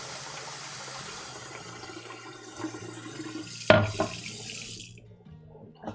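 Fresh cold tap water runs into a kitchen sink in a steady close stream, then a sharp clunk sounds and the flow shuts off, leaving quiet.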